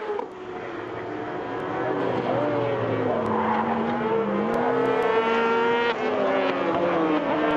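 A racing sidecar powered by a Screamer R1 Yamaha engine screams past at a Magny-Cours world championship round, its high-pitched howl rising and falling through gear changes, loud and continuous.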